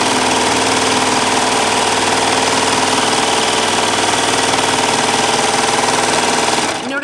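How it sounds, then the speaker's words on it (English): A Baby Lock Triumph serger runs fabric through with five threads, giving a loud, steady, rapid mechanical whirring and buzzing that continues without a break until it stops abruptly at the very end. "let me run some fabric through so you can see exactly what a 5 thread is and what a serger does."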